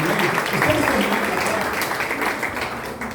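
A church congregation claps and applauds for blessed parents, a dense, steady wash of clapping holding at an even level throughout, with voices mixed in underneath.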